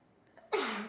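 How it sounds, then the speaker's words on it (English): A single sudden sneeze bursts out loud and close after a brief quiet breath, then trails off over the remaining half second. "I have to sneeze again."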